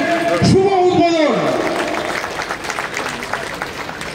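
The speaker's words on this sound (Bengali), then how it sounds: "জোরে করতালি" A crowd bursts into loud applause at the inauguration of the Ananda Mela 2025 fair in ward 14 of South Dum Dum. A voice speaks at the start, then sustained clapping fills the rest.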